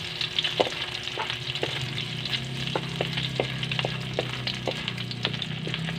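Leftover cooked rice frying into fried rice in a home kitchen, a steady loud sizzle with regular scraping stirs of a spatula against the pan, no voices.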